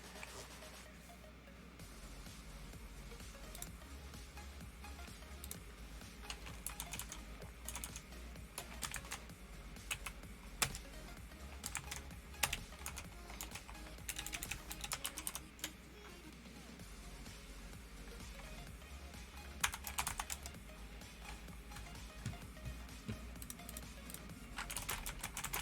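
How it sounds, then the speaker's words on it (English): Steady typing on a computer keyboard, clicks and clatter running continuously and fairly close, with some bursts of faster keystrokes and no talking over it. "the keyboard does pick up a lot of noise"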